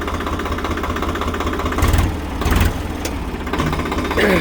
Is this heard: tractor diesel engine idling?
yes